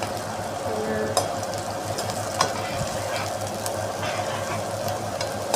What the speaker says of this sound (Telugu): ఇప్పుడు ఇందులో ఆనియన్స్ వేసుకున్నా.